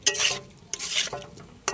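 Spice masala frying in a pan gets stirred in three quick scraping strokes over a bright sizzle, close up and with no voices.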